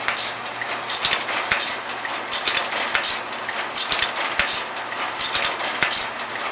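A Bivans Model 50 Tuck-o-Mat carton erector runs with its guard removed, a dense, steady clatter of mechanical clicks and ratcheting taps as cartons feed from the central magazine to the folding device.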